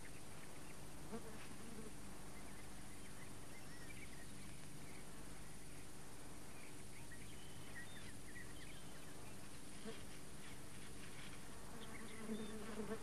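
Wasps buzz softly and continuously, a faint droning hum of wings close by with no voices.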